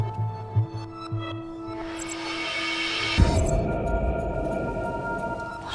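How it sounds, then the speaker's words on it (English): Low rumbling in the video game The Complex, a steady deep drone swelling midway with a thud, under sustained tones and faint game hum. "What's the rumbling, though?"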